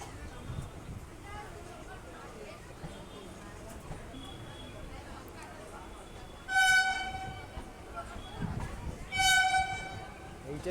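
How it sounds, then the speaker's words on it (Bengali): A Ranaghat–Bangaon local train rumbles along on a single line, and two loud, blaring horn blasts sound near the end over the rolling carriage noise. "আমাদের ট্রেন চলেছে রানাঘাটের পথে"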